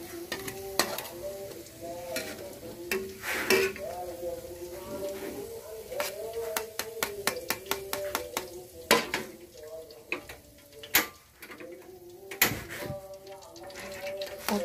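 Oil sizzles and crackles steadily as tofu and eggplant fry in a pan of oil used for frying chicken, with stirring clinks and scrapes of utensils and a voice speaking Indonesian nearby.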